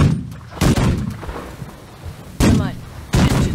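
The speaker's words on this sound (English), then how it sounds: "Put in those cannons! Fire!" Ship cannons fire in the naval video game The Last Leviathan, with three loud booming blasts at uneven intervals over a low background rumble.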